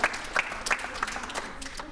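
Applause for young players born in 2003 and 2004, on a televised sports programme: a moderate patter of hands with a few sharper individual claps standing out, steady across the whole stretch.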